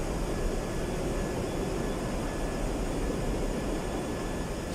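An airliner's thrust reversers deploying on landing in Microsoft Flight Simulator 2024, heard as a dense, constant, loud rushing jet roar that stays steady throughout with no talking.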